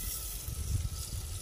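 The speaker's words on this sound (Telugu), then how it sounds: "అల్లం ఎల్లుల్లి పేస్ట్ వేసేస్తున్నా" Ginger garlic paste sizzling in a pan while cooking chicken curry at a camp, a continuous hissing fry with low rumbling underneath, moderately quiet, no talk.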